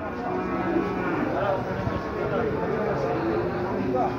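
Cattle mooing and lowing amid a busy, noisy crowd at a cattle market in Pati, with people chatting throughout.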